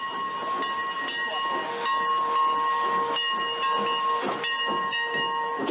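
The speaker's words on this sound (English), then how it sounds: "we'll ride on a real old-fashioned steam engine as it chugs its way through the woods" An old-fashioned steam train in the woods, with steady steam hiss, a sustained whistle tone and rhythmic chuffing, moderately close with no talking.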